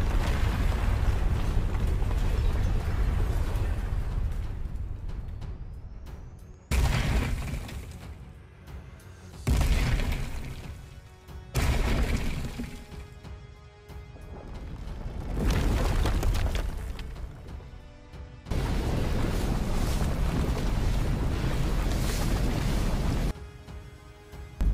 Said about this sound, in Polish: Są tu różne dźwięki eksplozji i ognistego zamieszania.